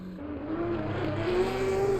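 A Porsche race car engine in the sim racing game Assetto Corsa Competizione hums steadily with a rising tonal whine, sustained and fairly loud throughout.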